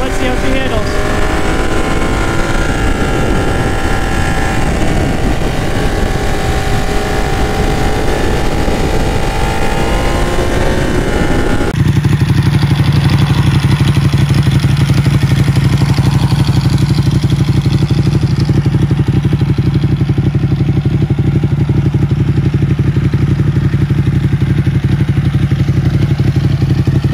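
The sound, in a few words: Ducati track motorcycle engine riding through corners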